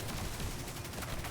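A grenade blast in the sci-fi shooter Destiny 2, thrown at wizard enemies by an Arc Hunter, comes as a dense, continuous roar of explosive crackle and low rumble filling the short moment, loud and busy with combat noise.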